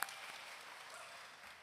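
A graduation ceremony crowd applauds, a soft, steady wash of clapping from a distant audience that holds evenly for under two seconds.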